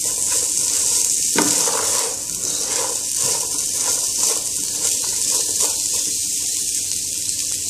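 Chickpeas and potatoes sizzle steadily in a hot pan for chola bhuna, with a spoon scraping and stirring through the mix now and then, close and continuous.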